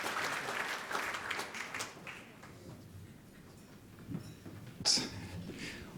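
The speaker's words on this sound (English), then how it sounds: "let's give these guys a round of applause" Applause from an audience at a fundraising event for the Fiji Heart Foundation, broad sustained clapping that fades after about two seconds, with a brief louder burst near the end.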